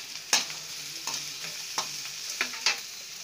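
Chopped carrots and other vegetables sauté in a pan for fish fried rice, a soft steady sizzle broken by several sharp spatula scrapes and stirs at irregular intervals, close and fairly quiet with no voices.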